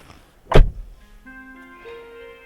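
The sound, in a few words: car door of a Hyundai i40 sedan being closed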